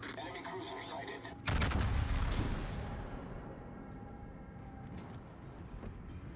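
Naval artillery fires in World of Warships, one loud deep boom rolling into a fading rumble, with mechanical clanks and a distant low drone.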